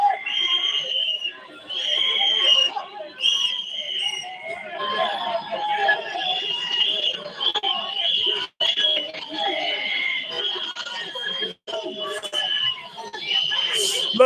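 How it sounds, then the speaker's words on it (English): Several whistles are blown in shrill repeated bursts during an arrest, loud and close, over a murmuring crowd with occasional shouts. "you surround me with those whistles"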